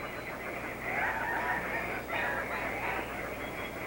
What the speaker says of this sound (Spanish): a nuestro alrededor hay casi 2 docenas de gallitos que van y vienen saltando de rama en rama.